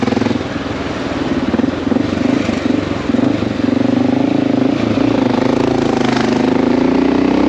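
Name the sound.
Honda XR650L motorcycle riding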